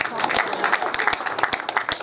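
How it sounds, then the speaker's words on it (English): Audience applause at a chamber of commerce salute-to-justice gala: scattered hand claps under a voice speaking over the room, building into a loose rhythmic patter. "A big round of applause for John Oram."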